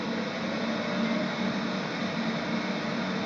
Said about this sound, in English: Sorry, that noise is our robot vacuum starting up again.